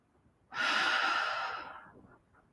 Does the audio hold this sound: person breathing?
yes